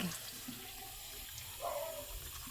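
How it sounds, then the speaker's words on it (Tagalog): Water poured into a pot of paksiw, a vinegar-based Filipino stew, heard as a faint, close trickling pour lasting a couple of seconds. "lalagyan ko na siya ng tubig"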